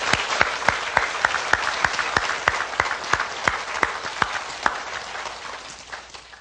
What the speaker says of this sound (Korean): 위대하신 구원을 이루신 하나님을 우리 박수 한번 쳐서 영광으로